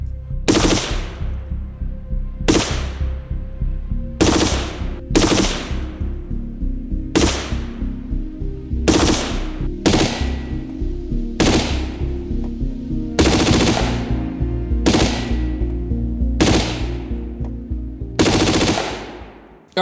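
About a dozen loud, close gunshots are fired from an underground anti-thermal hide site, each a sharp crack with a brief decaying echo, spaced roughly one and a half to two seconds apart.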